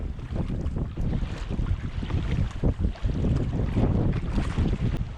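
Steady wind buffets the microphone over choppy lake water slapping and churning continuously, loud and close, with no voices.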